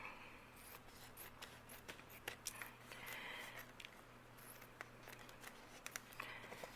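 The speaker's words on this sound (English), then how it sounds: "I'll take the scissors and I will cut off the wonky edges" Scissors snip repeatedly through a thin plastic sheet, quiet and close, with irregular crisp cuts and light rustling between them.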